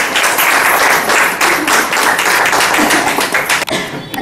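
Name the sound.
applause for a women's bhajan group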